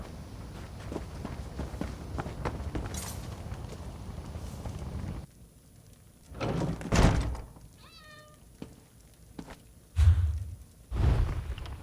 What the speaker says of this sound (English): Not another cat.